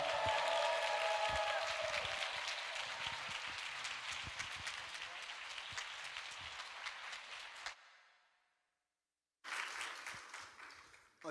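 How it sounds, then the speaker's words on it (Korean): An audience at a church youth spring retreat applauds and cheers to welcome a pastor. Sustained clapping fades out to silence, then a fresh burst of clapping starts again, heard from a distance. "여러분, 정말 감사의 박수와 우리 환호성으로 우리 목사님 맞이하도록 하겠습니다."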